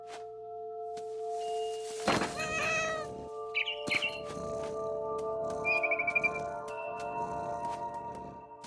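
A cat meows a few times in the video game What Remains of Edith Finch, with short mewing calls over a steady ambient game soundscape and occasional bird-like chirps.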